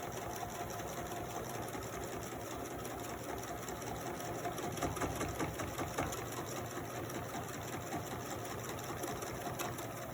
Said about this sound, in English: And then we're going to stitch down the side.